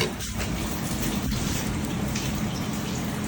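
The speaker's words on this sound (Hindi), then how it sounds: "बारिश तेज हो गई है।" Heavy rain pours steadily outdoors, a dense continuous hiss of drops on surfaces with no pauses, fairly loud and even throughout, with no voices.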